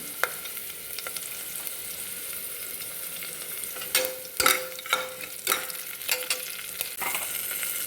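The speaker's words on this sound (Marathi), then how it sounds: "हिरवी मिरची आणि कढीपत्ता घालून घेते आपण यामध्ये मी आता थोडीशी हळद घालून घेते थोडासा हिंग घालते" Green chillies, curry leaves, turmeric and asafoetida frying as a tempering in hot oil, a soft steady sizzle broken by sharp clinks and scrapes of a spoon stirring in the pan.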